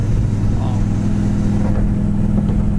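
A 1969 Pontiac GTO engine cruising at about 55 mph and 2,100 RPM gives a loud, steady low rumble with a constant droning hum, heard from inside the moving car.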